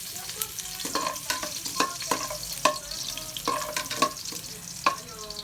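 Chopped garlic fries in a pan of hot oil, the bed of sizzle broken up by frequent sharp scrapes and clacks of a spatula stirring it, close and alone with no talking.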